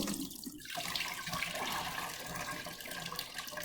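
Freshly harvested herbs rinsed under a running tap, a steady broadband rush of water close by, continuous for a few seconds with no voices.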